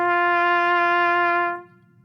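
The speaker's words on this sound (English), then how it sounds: "I have here the trumpet" A single sustained trumpet note played by a music teacher in a school class, steady and loud with rich overtones for about a second and a half before cutting off.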